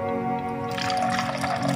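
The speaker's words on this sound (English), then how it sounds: "I put some water." Water pours into a jug of orange lemon juice with mint and ice, a steady close splashing trickle that starts partway through and continues to the end.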